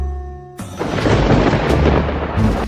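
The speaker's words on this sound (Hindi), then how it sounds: "ये बिना मौसम की गरजती हुई बारिश हमें क्या संकेत देती है?" A loud, close thunderclap bursts out after a quiet moment and rumbles heavily alongside steady rain, with no voices.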